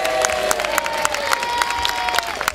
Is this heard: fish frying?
no